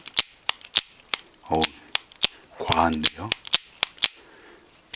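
A Shimano 18 Bantam baitcasting reel's clutch clicks sharply in a rapid series of crisp snaps, with a short spoken remark in between.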